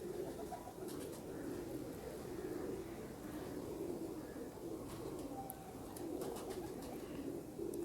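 Steady low cooing from several Golden 222 breed pigeons fills the clip, a continuous murmuring drone with faint chirps and a few brief higher clicks over it.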